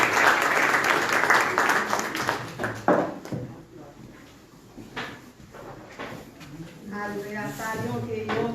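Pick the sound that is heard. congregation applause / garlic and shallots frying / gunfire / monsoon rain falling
congregation applause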